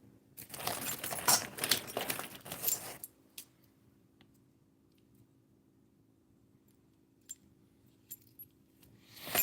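Set of Delaney smart keys jangles and clinks in the hand for about three seconds, a bright metallic rattle up close, followed by near silence broken by a few faint small clicks.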